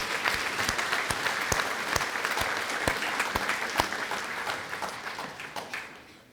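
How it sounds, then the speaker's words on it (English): Sustained applause from an audience at a spring senior breakfast, dense clapping with sharp individual claps standing out, steady and loud before tapering slightly toward the end. "let's give them a round of applause"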